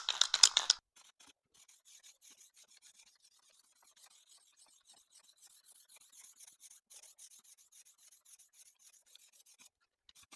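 A can of paint for refinishing a chrome truck grille is stirred steadily, a soft continuous rasping scrape that goes on alone and close after a brief louder knock at the start.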